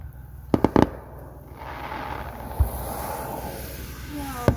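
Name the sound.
4th of July fireworks exploding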